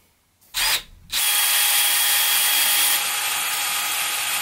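A power drill drives 2.5-inch decking screws into wood while a 7-foot reaper Halloween prop is built: a short whirring burst and a brief pause, then a long, steady, loud drilling whine that runs to the end.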